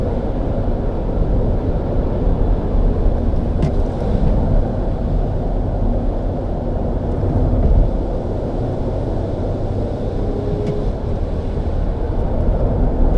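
A new Smart ForTwo car accelerates hard on kickdown, its engine drone and road roar heard loud and steady from inside the cabin, with wind noise and no voices.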